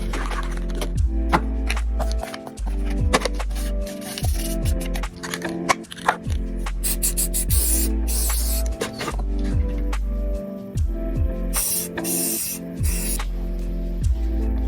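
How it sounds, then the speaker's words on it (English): Rust-Oleum Gloss Pink spray paint hisses out in repeated short bursts, close up, over steady low background music. "Now we're ready to spray."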